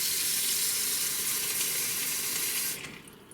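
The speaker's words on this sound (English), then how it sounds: "let's go ahead and add the water" Water pours steadily into an Instant Pot to cover noodles for a butter-and-herb pasta side, a loud continuous rush that cuts off near the end and leaves a quieter trickle.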